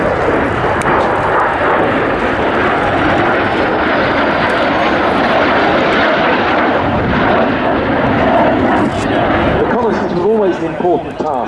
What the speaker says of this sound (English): So now to the Canberra PR9.